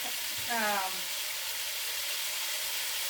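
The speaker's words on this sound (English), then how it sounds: "So now I'm gonna put in my sofrito, which is super yummy." Sofrito sizzles in a pot as the base for Puerto Rican arroz con pollo, a steady close hiss with a short tonal squeak near the start.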